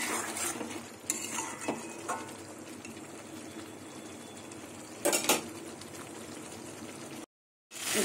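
Katla fish cooking down in a pan with spices and oil, a steady low sizzle under repeated scraping and stirring clinks of a utensil, with a couple of louder knocks.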